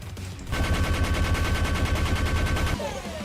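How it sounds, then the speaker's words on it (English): A video game cannon fires against trolls and orcs in a rapid, loud, continuous volley of booming shots lasting about two seconds before cutting off abruptly. "We can kill trolls now with the cannon."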